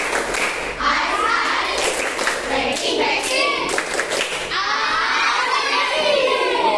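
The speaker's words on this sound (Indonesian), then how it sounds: "Kalau ada yang belum semangat, tepuk ice breaking." Primary-school children in a classroom at SD N 205 Palembang clap out a rhythmic ice-breaking clap pattern, loud and close, with the children shouting and chanting together over the claps.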